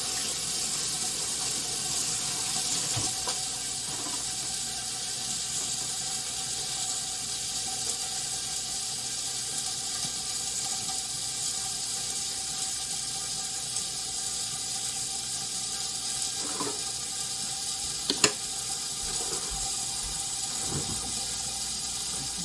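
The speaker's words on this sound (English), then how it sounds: "Let me wash my hands." Water runs steadily from a kitchen tap while hands are washed under it, giving an even hiss that lasts the whole time. A few faint clinks and splashes sound through the flow, and no one speaks.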